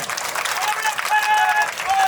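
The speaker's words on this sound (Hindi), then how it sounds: "आदरणीय भाई साहब श्री पवन जी के लिए एक बार चाहूंगा जोरदार तालियां बजाइए।" Audience applause for the main speaker at a Hindi-language gathering: a dense, steady wash of clapping through the whole stretch, with voices calling out over it.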